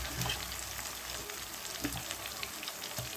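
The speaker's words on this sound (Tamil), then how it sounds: "எண்ணெயிலே நல்லா வதக்கிக்கோங்க." Tomatoes sauté in hot oil for a potato and brinjal kara kuzhambu, giving a steady close sizzle and crackle with faint stirring and no talking.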